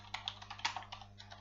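Someone types on a computer keyboard at a Windows machine, with quick, irregular key clicks close to the microphone over a faint steady hum.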